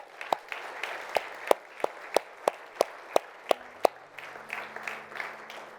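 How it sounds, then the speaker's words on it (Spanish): Scattered applause from a church congregation, a handful of sharp separate claps in a steady rhythm that thin out, followed by a soft sustained tone underneath. "Un aplauso."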